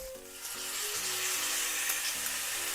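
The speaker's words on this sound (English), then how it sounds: "I'm going to keep frying like this a little bit more." Okra fries in a pan with a steady, close sizzle that hisses continuously, with faint tonal hums underneath and no talking.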